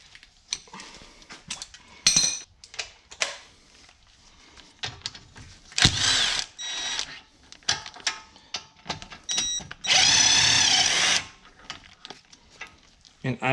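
Short bursts of a power tool work loose the 14 mm triple-square caliper bolts on a Porsche Cayenne's front brakes, a few brief whirring runs separated by metallic clinks and handling knocks at close range.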